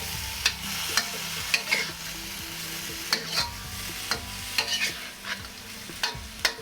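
Mongolian beef and onions sizzling in a pan as sauce goes in, a steady hiss punctuated by regular sharp clanks and scrapes of a spatula stirring, close and fairly loud, without speech.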